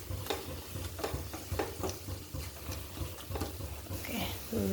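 A spoon scrapes and stirs garam masala in a frying pan for cauliflower curry, with soft repeated strokes over a low sizzle, close and quiet while someone speaks.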